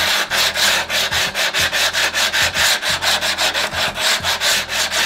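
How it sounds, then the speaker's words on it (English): An EdgeCraft diamond file with coarse grit rasps back and forth along a rough tile edge, about a dozen quick, loud, even strokes in steady rhythm, close up with no voices. "we're going to take the EdgeCraft Diamond File. We're going to start with the coarse grit"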